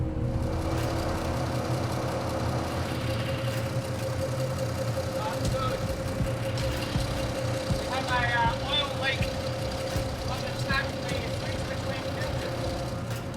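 A 1200-horsepower V12 boat engine idles after an oil change with a steady low rumble and drone throughout, while a person talks briefly over it partway through.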